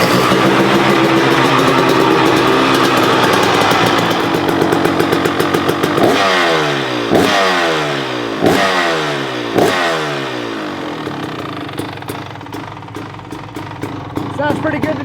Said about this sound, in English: I guess we got to start it up and see what it sounds like